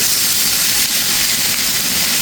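Bitter gourd and potato pieces frying in oil in a pan, a loud, continuous sizzling hiss with no pauses, close and steady throughout.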